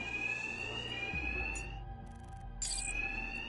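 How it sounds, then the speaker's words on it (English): Alarms ringing in a Batman video game, a loud, piercing electronic tone that sounds continuously, drops out for a moment, then resumes, over low rumbling ambience. "these thugs can't hear a thing over the alarms"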